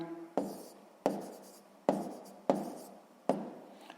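Pen strokes on paper during a sixth-grade math exercise, five distinct scratchy bursts in an irregular rhythm, close and quiet, each fading quickly.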